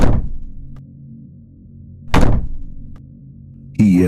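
Banging on an apartment door at 3 AM: two loud, heavy thunks about two seconds apart, each ringing briefly before dying into a hollow silence, followed by a sudden eerie tonal burst.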